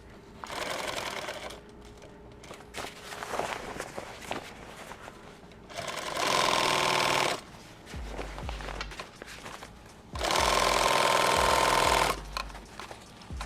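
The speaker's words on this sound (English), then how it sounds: "I'm going to sew back over" A sewing machine stitches back over a kit bag seam in several separate loud, even bursts of rapid whirring, with quieter handling and shuffling noises in the pauses between runs.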